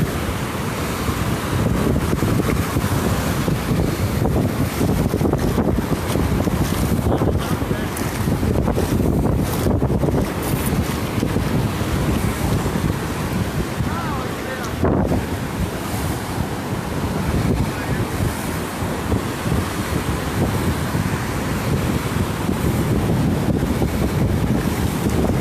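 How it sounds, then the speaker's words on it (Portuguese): Strong, steady wind buffets the microphone at Cassino beach in summer, roaring continuously over crashing surf for the whole stretch, loud and close with no letup. "O vento é próprio do cassino, né?"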